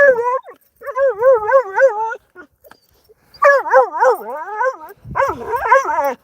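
A social dog on a beach whines in long wavering, rising and falling cries and breaks into a few yips, close and loud, aimed at another dog.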